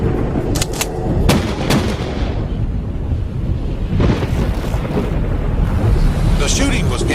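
Gunshots from a gangland-style mafia shooting reenactment: several sharp, loud cracks in the first two seconds over a dense, busy background, with possible talk mixed in.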